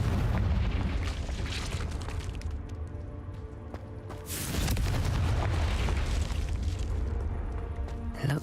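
A Confringo blasting spell explodes in a Hogwarts Legacy cave, with a loud booming burst midway through over a steady, rumbling game ambience.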